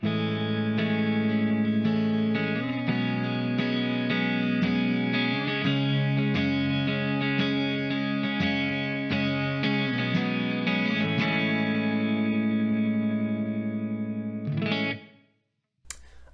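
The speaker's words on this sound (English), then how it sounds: "We have a compressed clean and it sounds like this." A clean electric guitar through an Amped ICON's compressed clean tone plays a steady run of even, evenly compressed notes with a slight chorus shimmer, ending on a held chord that cuts off.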